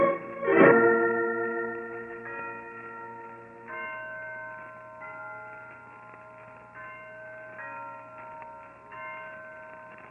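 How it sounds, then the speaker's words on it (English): Historic Blandford church tower bells ring out, a loud first strike followed by overlapping tolls that ring on and slowly fade, heard from a distance. "Listen to those bells, Holmes."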